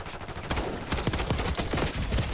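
Rapid automatic gunfire from a CR 56 AMAX assault rifle in Black Ops 6, loud close bursts of sharp cracks that come in quick irregular clusters and fill the whole stretch with no talk over them.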